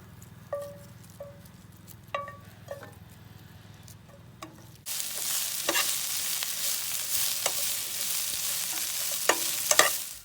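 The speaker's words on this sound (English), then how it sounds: "get these onions sauteed up first." Onions sauté in olive oil in a cast-iron Dutch oven at a camp kitchen. A soft sizzle rises abruptly halfway through and then holds as a steady, hissing fry, with scattered ticks and scrapes from stirring both before and during it.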